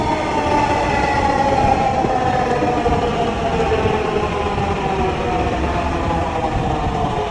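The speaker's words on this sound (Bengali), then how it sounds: "ট্রেনের অপেক্ষা করতে করতে ট্রেন চলে আসলো খুব তাড়াতাড়ি" A metro train rumbles steadily close by, a loud continuous roar of wheels and motor with a faint tonal whine above it, no voices.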